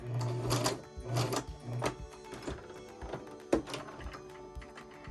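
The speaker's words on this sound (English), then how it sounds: "This is to lock in your stitch by going backwards." A home sewing machine running a short reverse stitch to lock the seam on a fleece catnip cat toy, quiet bursts of rapid mechanical whirring and clatter with brief pauses between, close by and without speech.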